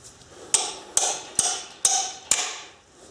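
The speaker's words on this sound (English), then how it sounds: "Get yourself a 3-pound hammer." A 3-pound hammer strikes old bolts on a Datsun 240Z, five sharp metallic blows at a steady pace, close and clear with brief ringing after each.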